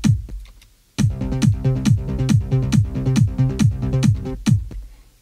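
A synthesizer trance bass line, the third bass layer in the track, pulses in a fast rolling pattern with punchy low-end hits recurring evenly, loud and upfront with no voices.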